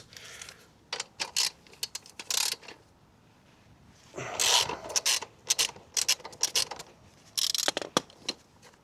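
Ratchet wrench loosening a 14 mm bolt on a Honda CB125F motorcycle during chain and sprocket work, heard as several bursts of quick clicking separated by short pauses, close and fairly quiet.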